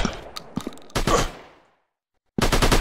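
Loud video game gunfire from the mobile FPS Special Ops 2020 Encounter, a few sharp shots ringing out and decaying, a brief silence, then a fast automatic burst at the end.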